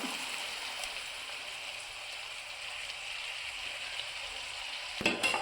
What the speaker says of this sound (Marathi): व्यवस्थित मिक्स करून घेऊया आपण व्यवस्थित